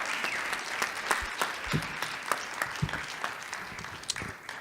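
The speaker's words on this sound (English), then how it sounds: "let's give him a big round of applause" An audience applauds a speaker at a conference session: a modest, scattered patter of claps from a smallish group, fairly quiet and thinning out toward the end.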